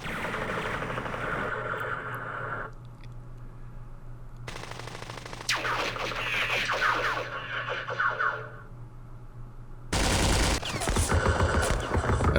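Machine gun fire in the Vietnam war strategy game Campaign Series Vietnam, loud rapid bursts separated by short gaps, over a low steady hum, with a sharp new burst starting late.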